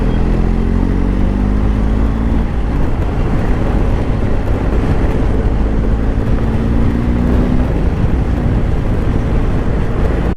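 A BMW R 1250 GSA motorcycle cruising on the road, with a steady loud engine drone and heavy wind rush filling the whole stretch, the engine note rising slightly at times.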